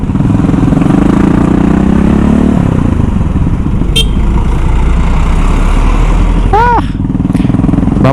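A Kawasaki KLX 150 motorcycle engine roars loud and close at high RPM, the pitch dropping partway through, with brief horn-like toots and passing traffic nearby.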